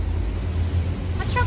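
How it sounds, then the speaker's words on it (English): A truck passing outdoors, a steady, loud low rumble that holds throughout, with a short tonal squeak near the end. "a truck goes by"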